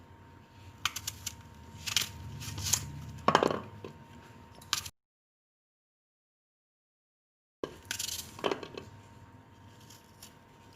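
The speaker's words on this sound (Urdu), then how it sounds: "سب سے پہلے ہم سیب کاٹیں گے۔" Knife slicing apples on a plate for an apple milkshake, giving a run of short crisp cuts and light taps against the plate, close and clear with no voices, then a stretch of silence before more cutting.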